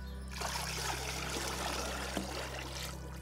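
Bordeaux mixture, two copper sulfate and lime preparations, poured together into a container and mixed, giving a steady close trickle and stream of liquid throughout over a low constant hum.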